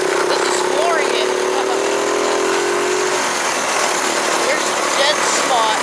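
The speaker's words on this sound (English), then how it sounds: "Dead spot at about 3/4 throttle where it bogs out and dies." A small, overloaded engine vehicle floored to full throttle, its engine buzzing loud and steady while the pitch sags after a few seconds, as if bogging down.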